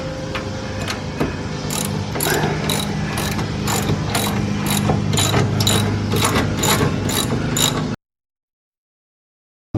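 A hand ratchet removing the ball joint nut on a 1985 VW Scirocco Mk2 front suspension, about a dozen quick, evenly spaced clicking strokes up close, then the sound cuts off abruptly.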